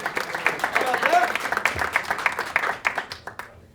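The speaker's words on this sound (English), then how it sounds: "give yourselves a round of applause" Audience applause at a town hall in New Hampshire, moderately quiet uneven clapping from the room that tapers off at the end, with voices mixed in.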